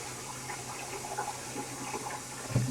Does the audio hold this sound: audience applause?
no